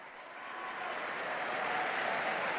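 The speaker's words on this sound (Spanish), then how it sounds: "escuchamos pues a todos los peregrinos y fieles el gran aplauso por su llegada" Pilgrims and faithful applauding Pope Leo XIV's arrival in Paul VI Hall at the Vatican: a large indoor crowd's applause swelling from soft to a broad, sustained roar, heard from a distance.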